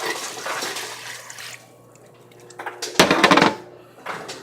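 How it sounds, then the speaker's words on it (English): Used fish-frying grease is poured and drained, giving bursts of splashing liquid pouring with metallic pan clatter in between, fairly close and with no talk. "I'm going to drain my fish grease."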